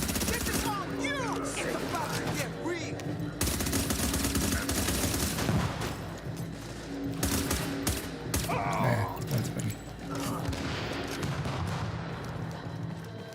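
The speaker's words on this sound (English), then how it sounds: "they're swinging that RPK around." RPK machine gun fire in the video game The Division: long stretches of dense, rattling automatic bursts with other shots mixed in, loud and continuous, with some voices underneath.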